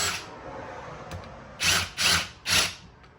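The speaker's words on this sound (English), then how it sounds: "it's always easier just to use an impact if you got one" Three short, loud bursts from an impact wrench in quick succession, spinning out a 14 mm caliper bracket bolt on the rear brakes of a 2006-2012 Ford Fusion, after a quiet start in a garage setting.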